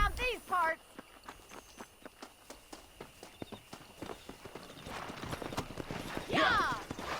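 Horse hooves clip-clopping in a steady rhythm during a race in the Western video game Red Dead Redemption, mid-distance, with speech over parts of it.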